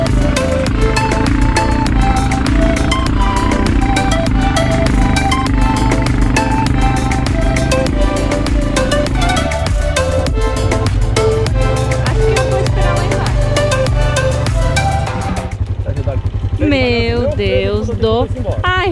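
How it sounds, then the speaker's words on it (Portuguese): A quad bike (ATV) engine runs loud and steady throughout a ride at Cumbuco, Ceará, with continuous motor drone and clatter; toward the end other sounds rise over it as the ride continues. "Você está conferindo aí na sequência o nosso passeio de quadriciclo."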